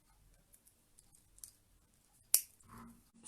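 A single sharp snip of cutters trims excess wire after a crimp bead is squeezed on a small suncatcher jewelry piece, preceded by faint light clicks of handling and followed by a soft rustle.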